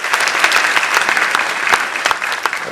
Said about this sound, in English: They deserve a resounding round of applause.